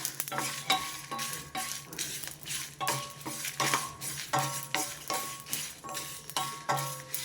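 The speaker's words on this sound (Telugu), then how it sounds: "ధనియాలు ఎండుమిర్చి వేగినాయండి కరివేపాకు వేసేసా" Dried red chillies, coriander seeds and curry leaves fry in a pan for bitter gourd spice powder, with a steady sizzle under rhythmic metal spoon stirring and scraping strokes repeating about once a second.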